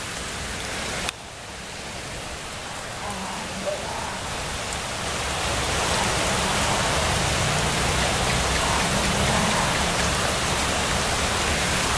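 Steady rain falls around a spot beneath a tree at night, a dense, even hiss that starts after a brief sharp cut and swells slightly louder over time, with no talking.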